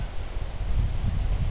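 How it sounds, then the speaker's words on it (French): Wind blowing outdoors at a home spirulina growing setup, a steady low rumbling gust buffeting the microphone throughout, with no one speaking. "Il y a un peu de vent je pense."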